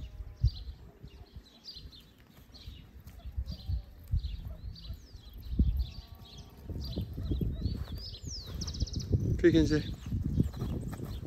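Hooves of a chestnut roan horse wearing a blanket clip-clop in an irregular rhythm, with birds chirping around and a person talking over it.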